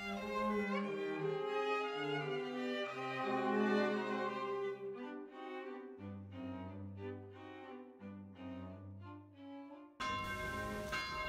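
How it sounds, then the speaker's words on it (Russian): Church bells peal from a local church built in 1644 during Christmas in Salzburg. Several bells of different pitch overlap in a continuous, resonant ringing with no talk. "Колокола приятно звонили в местной церкви, построенной в 1644 году."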